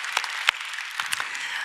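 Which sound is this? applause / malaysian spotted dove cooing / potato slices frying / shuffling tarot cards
applause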